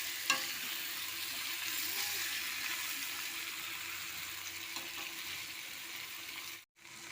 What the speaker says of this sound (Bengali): চিকেন আলু মশলা এখন আমি কষছি, আর কিছুক্ষণের জন্য কষবো